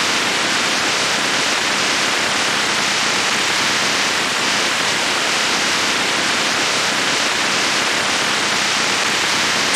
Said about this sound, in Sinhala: දැන් නම් වැස්ස වැඩි වෙනවා වගේ.